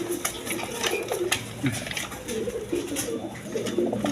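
Two big male Raj Golla pigeons coo in low, repeated rolling phrases close by, with intermittent clicks and scuffs of movement around them and no speech.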